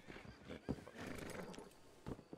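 Horse in the Red Dead RP roleplay game, a close whinny with snorts and clip-clopping hooves, faint but clear, with no talk during it.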